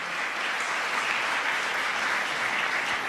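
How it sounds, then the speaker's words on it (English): An audience breaks into applause during a vice-presidential speech, steady dense clapping from many hands that holds at an even level throughout without any talking. "You can clap for that."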